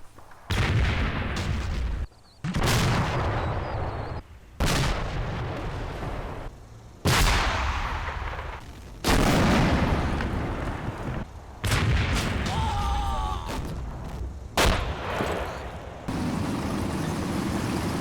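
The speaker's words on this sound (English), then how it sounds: "The anti-tank gun continues to fire. As mortar rounds drop nearby." Anti-tank gun shots and mortar rounds exploding in the video game Combat Mission Red Thunder, a series of loud, booming blasts every couple of seconds, each decaying into rumble, with no voices.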